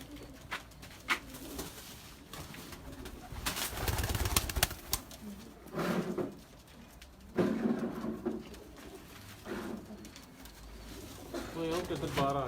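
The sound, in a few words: breeder pigeons cooing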